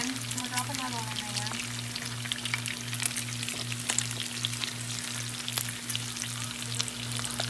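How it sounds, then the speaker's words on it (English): Steady crackling and sizzling of jalapeño poppers deep-frying in hot oil, close and continuous, with a low rhythmic hum pulsing underneath. "They're in there frying."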